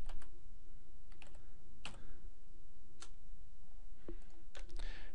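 Typing on a computer keyboard, scattered sharp key clicks with irregular spacing over a quiet background, close and clear with no voices.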